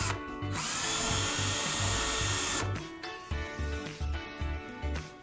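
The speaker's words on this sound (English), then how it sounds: "drill a pilot hole through the shim and into the cab shell" A power drill bores a pilot hole through a wooden shim into an elevator cab shell during panel installation, a steady loud whine lasting a couple of seconds before breaking into short intermittent bursts.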